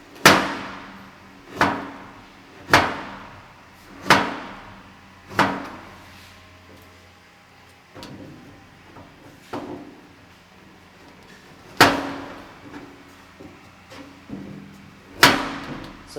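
A knife cutting carrots into strips on a board, a series of sharp, close chopping knocks spaced about a second apart, some louder than others, with quiet gaps between and no talk.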